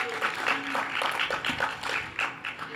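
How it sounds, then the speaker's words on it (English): Brief round of audience applause at a poetry day event in a theatre, moderate and scattered clapping with no voices over it. "can we please get a little round of applause for the Poets and Writers Coalition?"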